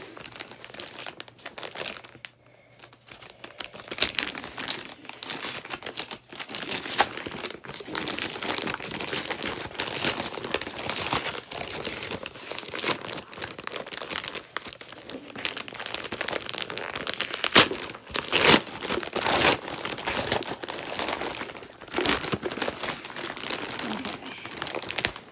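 Product packaging for Verydice dice being opened, with continuous crinkling paper and plastic, bursts of tearing and rustling that swell and fade over about twenty-five seconds, close and fairly loud.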